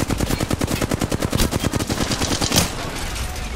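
Rapid automatic gunfire in the Apex Legends battle royale game, a dense, loud burst of evenly spaced shots lasting about two and a half seconds, then a final crack and a fading ringing tail.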